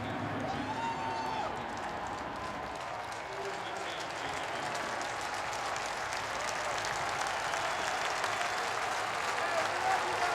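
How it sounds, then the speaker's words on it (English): A college football crowd at an FCS semifinal between James Madison and North Dakota State stands and cheers, sustained applause and crowd roar filling the stadium while a commentator talks over it. "Classy move here on the part of the fans to stand up and cheer this program on"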